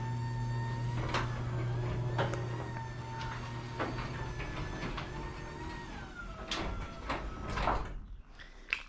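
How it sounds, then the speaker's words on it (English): A newly installed garage door with an automatic opener runs closed, giving a sustained motor hum and rolling rumble with periodic clunks as panels move along the track, loud and close, ending in a settling thump. "And then there's the door closing."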